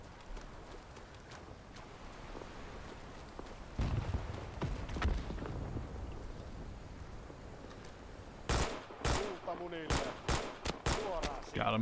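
A Suomi submachine gun fires in Rising Storm 2: Vietnam's Winter War mod. Quiet ambience with scattered faint shots builds to several loud, sharp bursts of rapid automatic fire near the end.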